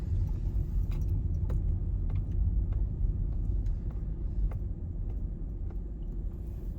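Cars drive past on a road beside a field where wild deer stand by a fence, producing a continuous low rumble with faint clicks and ticks scattered throughout, no voices.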